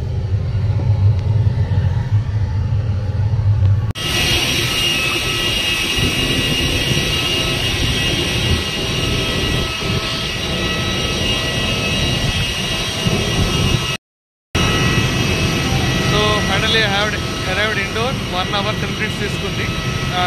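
Steady, loud broadband roar of an IndiGo passenger jet's engines heard from inside the cabin during flight on the Hyderabad to Indore route. It begins abruptly after a quieter opening, cuts out for a moment, and a voice is faintly heard near the end.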